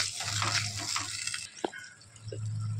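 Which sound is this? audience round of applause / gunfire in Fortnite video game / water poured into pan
water poured into pan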